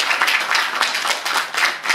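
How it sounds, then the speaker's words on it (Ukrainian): Audience applause breaks out at a celebration for children and people with special needs: brisk, dense clapping from many hands, loud and close, with slight swells over two seconds. "Оплески для них були дуже."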